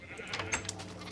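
Sheep bleating in a video game, a brief close bleat with a wavering voice, quiet and alone.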